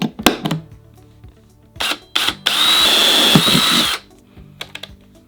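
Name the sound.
drilling holes with 11/64 drill bit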